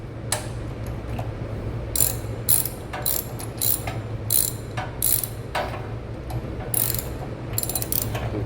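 A ratchet wrench tightens the head bolts on a Honda GX390 engine, giving repeated close clicking bursts of ratchet strokes with short pauses over a low background hum.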